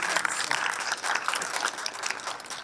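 An audience at a Vedic spiritual discourse on penance claps together in a moderate, somewhat distant patter of many hands that rises and falls in bursts for a few seconds, with no speech on top.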